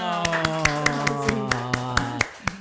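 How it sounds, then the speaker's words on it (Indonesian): A small audience claps hands at a talk on small-business finances, a sparse, irregular patter of claps heard under a sustained musical tone or voice, close and moderately loud. "Tepuk tangan dulu dong"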